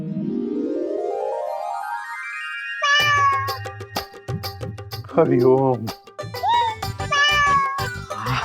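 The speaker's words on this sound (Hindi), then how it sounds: "ओए होए बिल्ली। वाओ कितनी क्यूट बिल्ली है।" A cat meows several times, clear and close, in rising drawn-out cries, after a rising musical tone and under a steady comedic sound effect backing, with a person speaking briefly.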